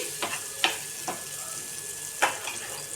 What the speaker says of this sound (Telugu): ఇప్పుడు ఈ మొత్తాన్ని ఒకసారి కలుపుకొని